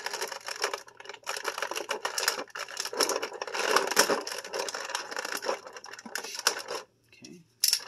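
A small plastic band is cut off the packaging of a NECA Gargoyles toy, giving a dense run of close crinkling, snapping and crunching plastic noises for several seconds, then a short pause and one final crackle.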